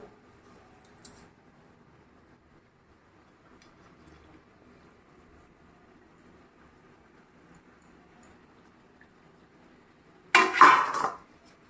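After long near-silence, a single sharp metallic clatter of a utensil against a pan or plate sounds as fried chital fish is lifted out, close and brief.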